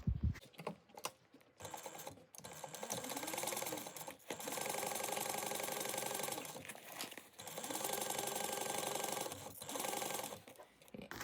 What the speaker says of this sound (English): we're going to sew this at a 3/8 inch seam allowance